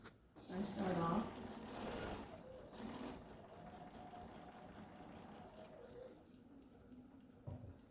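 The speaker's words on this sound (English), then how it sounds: "I'm sewing a little fast" Sewing machine running fairly fast while stitching a pineapple quilt block, a steady mechanical whir that persists through the clip with a louder burst near the start, under a voice.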